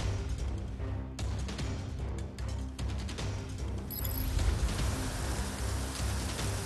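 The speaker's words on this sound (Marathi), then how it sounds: "आपण पाहू शकतो या ठिकाणी पावसाचा जोर हा वाढलेला" Steady heavy rain pours down in Kalyan-Dombivli in a dense continuous hiss, loud and close, with no voices.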